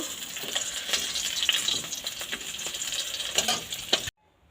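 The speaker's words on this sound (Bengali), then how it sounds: "আমার মাছ ভাজা হয়ে গেছে, এবার মাছটা তুলে নেব" Fish fries in hot oil in a pan, a steady close sizzle broken by scraping and clinking of a utensil, ending abruptly in near silence.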